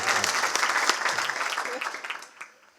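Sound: applause

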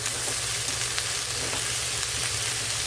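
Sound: onions frying in a pan

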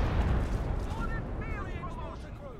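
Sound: gunfire on mortar pit in Company of Heroes 2 video game

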